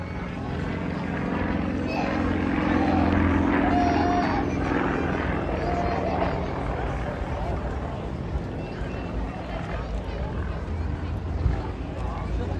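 A Yakovlev propeller aircraft built in Romania, with a two-bladed variable-pitch propeller, flies at the Blackpool airshow, giving a steady engine drone that swells and fades slightly beneath continuous commentary.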